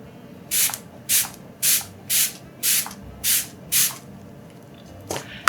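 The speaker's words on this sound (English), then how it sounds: "So this is a nice mist, nicer mist than CoverGirl. I mean, nicer mist than LA Girl." Makeup setting spray mists from a spray bottle in seven evenly spaced, loud, close hissing bursts, followed by one shorter final spritz, with no talking.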